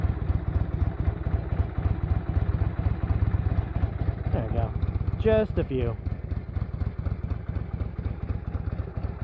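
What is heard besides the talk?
1982 Harley-Davidson FLH motorcycle engine idling after startup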